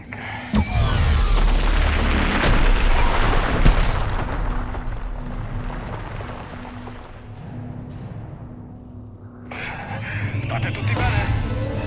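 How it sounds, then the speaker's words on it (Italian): In Mass Effect 3, a Reaper's heavy blast roars loudly over the squad. A long rumbling wash of booming noise swells, then fades, with a second surge near the end. "Il razziatore ci ha appena sparato contro."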